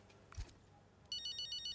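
A phone rings in the racing game Braking Point 3, a repeating electronic ringtone that begins after a soft thump. Its quick warbling pulses come through clear and fairly close over a quiet background.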